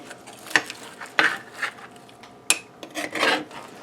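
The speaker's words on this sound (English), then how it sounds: "I'm just going to scoop some out here with a nice large spoon." A large metal spoon scrapes and scoops Frito pie out of a cast iron skillet, giving a handful of short, close rasping scrapes separated by brief pauses, with no talking.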